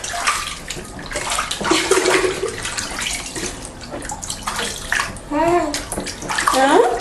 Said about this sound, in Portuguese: Lavar o rostinho.